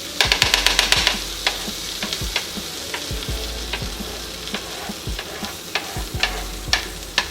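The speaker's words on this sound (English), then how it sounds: "You add butter into your pan so that it starts to melt around the edges, so that you get crispy edges." Pancake batter frying in melted butter in a pan gives a steady close sizzle, punctuated by quick clicking taps and scrapes, a rapid burst of them at the start and then irregular single ticks.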